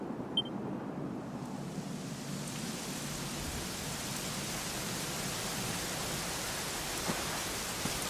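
Steady rain hisses evenly throughout, a broad, constant wash of drops with no voices, soft and continuous with an occasional faint patter, in the video game Dragon Quest XI.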